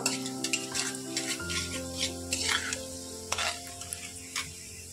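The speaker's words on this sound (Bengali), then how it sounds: "পেঁয়াজটা একটু ভালোভাবে ভেজে নেব।" Onions sizzle and fry steadily in a pan with occasional stirring scrapes, a continuous close crackle with no talk.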